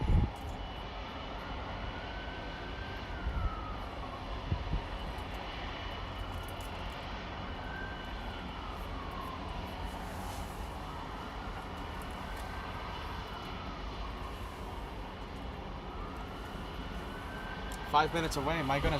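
An Emirates airliner at LAX gives a steady, moderately loud jet engine roar with slowly rising and falling tones throughout, while people talk over it.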